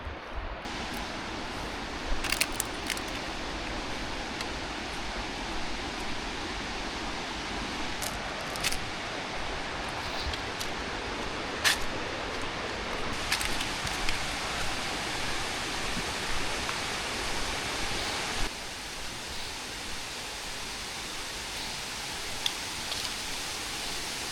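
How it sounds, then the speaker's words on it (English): Hanumana Gundi (Soothanabbi) Falls in Kudremukh roars in a constant, dense wash of falling water, heard steadily throughout with faint, brief chirps scattered on top. "we can hear the waterfalls very loudly"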